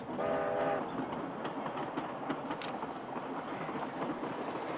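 A train rumbles along with a steady rolling clatter, and a short horn-like tone sounds at the start; no one speaks.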